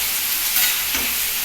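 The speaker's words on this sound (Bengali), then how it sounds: "এগুলো ভাজা হোক ভালো করে।" Vegetables with chili powder and turmeric sizzle briskly in a hot pan, a loud, steady frying hiss with a brief stir-like rustle partway through, heard close and without talk.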